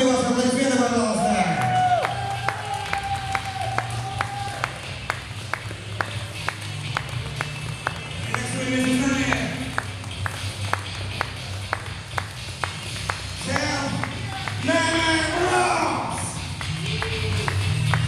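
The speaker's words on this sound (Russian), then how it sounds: "И, соответственно, спортсменов, огромные ваши аплодисменты, пожалуйста." A crowd at a biker hand-to-hand fighting tournament claps and cheers. A run of sharp, regular pings sounds over the applause, and voices and whoops rise and fall throughout.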